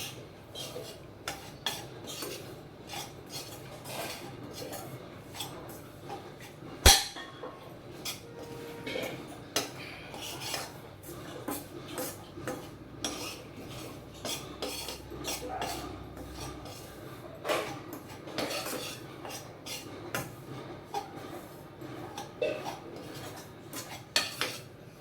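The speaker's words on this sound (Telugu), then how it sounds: "రాగి పిండి బాగా వాసన వచ్చే వరకు బాగా వేయించుకోండి ఫ్రెండ్స్" A utensil scrapes and clinks steadily against a pan as ragi flour roasts in ghee, giving soft irregular metallic taps and stirring scrapes at a fairly low level, with no voices.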